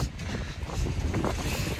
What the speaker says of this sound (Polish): U mnie jest taka wichura.